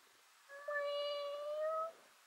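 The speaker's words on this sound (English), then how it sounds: "highest kitten meow I've ever heard" An elderly female cat lets out one soft, high, drawn-out meow, thin and clear against a quiet room, rising slightly before trailing off.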